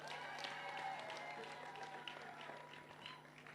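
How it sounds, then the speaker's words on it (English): Audience applause at a college anniversary ceremony, a steady wash of clapping from a crowd held for the full length, with a faint low hum underneath. "Please give them a round of applause once again"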